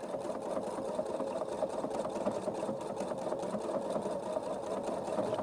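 A sewing machine stitching fabric with a circles and straights guide tool, giving a steady, close, fast mechanical whirr and needle chatter that runs unbroken throughout.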